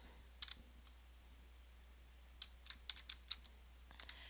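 Typing on a computer keyboard comes as faint, scattered clicks in two short bursts separated by a pause, over a low steady hum, with no talking.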